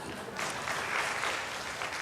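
Audience applause in a lecture hall during a Korean talk on life wisdom, a steady wash of clapping held at an even level for two seconds.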